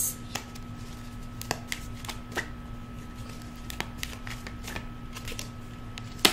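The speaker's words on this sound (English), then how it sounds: "let's pull some cards and clarify" Tarot cards shuffled and pulled from a deck during a reading: soft riffling clicks and a string of sharp snaps and flicks scattered through, fairly close, over a steady low hum, with no talk.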